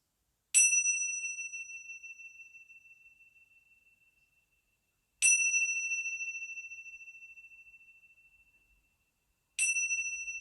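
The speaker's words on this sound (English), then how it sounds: "until the sound of the bells" Three clear, bright strikes of a meditation bell ring out one after another, each tone sustaining and slowly fading before the next, in otherwise near silence.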